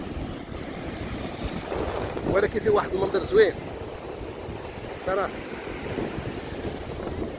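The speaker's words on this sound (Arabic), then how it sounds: "البحر عايش اليوم كما كتشوفوا" Rough sea surf breaks at Sounani beach in Al Hoceima, Morocco, a continuous wash of waves mixed with gusty wind buffeting, with someone speaking over it.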